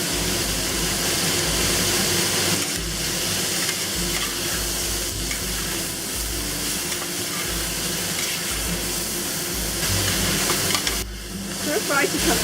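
Pressed bean curd, green chives, white pepper and Shaoxing wine tossed in a hot wok, a steady loud sizzle and hiss with the scrape and clatter of stirring running throughout.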